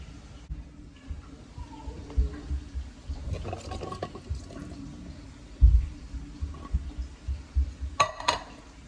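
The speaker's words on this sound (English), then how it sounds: "I always drain the water out" Water sloshes and drains out of a pot, with occasional clanks of metal and a few sharper clatters near the end.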